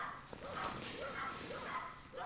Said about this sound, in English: Bloody dog barking at me.